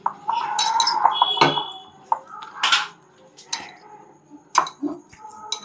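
Coated chicken pieces for chicken 65 being tossed and mixed in a metal bowl: irregular clinks, scrapes and sharp knocks of utensil against the bowl, with sticky mixing sounds between bursts and some quiet pauses.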